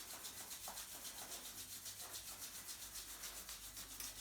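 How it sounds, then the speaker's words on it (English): Palms rubbed briskly together during a seated exercise class, a steady rhythmic swishing friction that continues throughout at a close, moderate level with no talking. "Start off maybe rubbing your hands together nice and vigorously."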